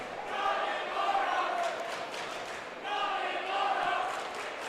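A high school boys' basketball crowd chants loudly and in unison in a gym, two sustained rhythmic swells of massed voices heard at a distance, with a commentator's voice over them.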